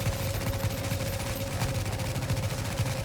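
Sustained automatic gunfire in the video game The Division, a dense, unbroken stream of rapid shots held at steady loudness for the whole stretch, with no voices.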